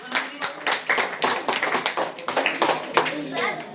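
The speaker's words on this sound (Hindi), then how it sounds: "जोरदार तालियां" Children in a classroom give a loud round of applause, sharp rapid claps in uneven bursts close by, with young voices calling out among them.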